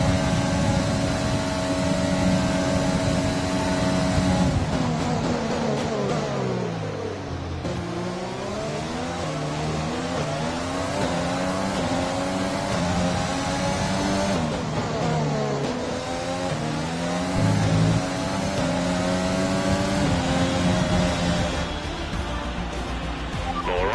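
Race car engines in a racing video game at the Chinese Grand Prix circuit roar loudly throughout, with repeated revving climbs, gear shifts and deceleration swoops, plus occasional tire squeal.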